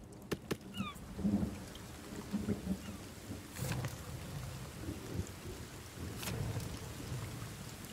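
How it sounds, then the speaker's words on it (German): Steady rain with rumbling thunder in The Forest video game, a continuous soft downpour with low rolling rumbles and a few sharp cracks. "An sich, ich mag den Regen."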